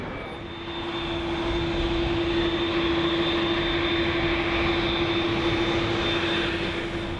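A jet airliner landing in Los Angeles roars close by, a loud sustained engine rumble with a steady whining tone that swells and holds.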